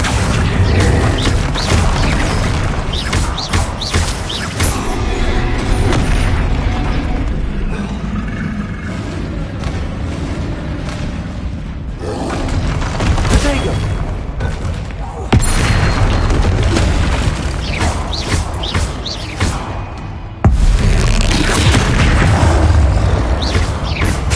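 Bombarda explosion spells in Hogwarts Legacy combat, heavy booming blasts recurring through dense, loud game battle noise with crashes and impacts, spell shouts voiced over the action.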